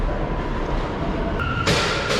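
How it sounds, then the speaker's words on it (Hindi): Inside the Whitehall–South Ferry subway station in New York, a steady, loud rumble of a train fills the platform, with a brighter metallic screech or hiss rising near the end. "अभी आ चुका हूँ मैं सब स्टेशन में।"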